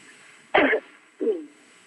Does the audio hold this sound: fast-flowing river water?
no